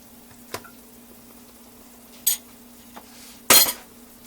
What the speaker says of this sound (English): I'm going to put the lid back on, and I'm going to let this simmer slowly